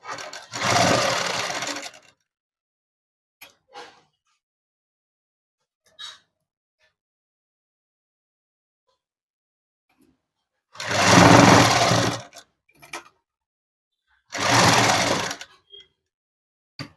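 Sewing machine stitching fabric in loud, close bursts of about a second each, separated by long quiet gaps with small handling clicks.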